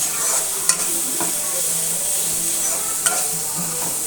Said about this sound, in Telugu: ఇలా బాగా మిక్స్ చేసేసుకొని ఒక 2 minutes మగ్గించుకున్నామంటే